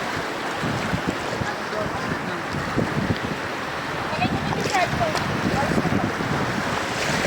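Ocean waves wash steadily onto a fine-sand beach, a loud continuous surge with wind buffeting the microphone and people talking nearby.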